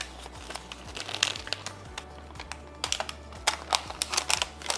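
Paper wrapped around a Google Pixel 8 case crinkles and rustles as it is unwrapped, in a string of short close crackles and bursts over a steady low hum.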